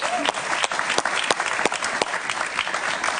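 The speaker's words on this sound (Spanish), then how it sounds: "Un aplauso para Iván Espinosa" A studio audience on a television talk show applauds for the politician Iván Espinosa, giving a dense, steady burst of clapping with a few sharper individual claps standing out, close and sustained throughout.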